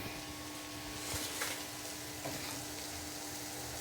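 Bitter gourd with tomato, onion and sambar powder sautés in a pan, producing a continuous close frying hiss with occasional soft scrapes and stirring knocks.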